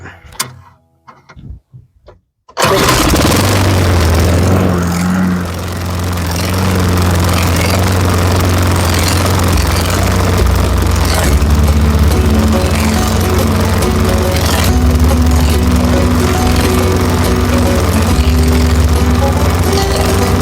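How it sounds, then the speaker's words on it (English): A small Lawn-Boy lawn mower engine, warm and with a suspected exhaust-side vacuum leak, pulls into life after a few seconds of rattling, then runs loud and steady with a rough, buzzing drone throughout. "Let's give it another pull, see if it'll restart."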